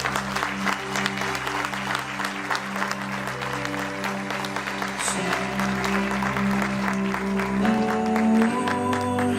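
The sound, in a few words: church congregation applause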